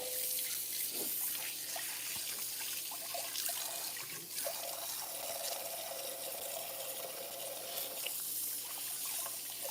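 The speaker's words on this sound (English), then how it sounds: "Give my hands a good wash." A kitchen tap runs steadily into a sink while hands are washed after handling a marinade, a close, continuous splashing stream with small drips and no talking.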